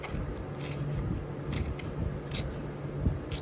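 Sticker-backed paper torn down the middle in one continuous pass, producing a close, steady ripping rasp with small crackles throughout.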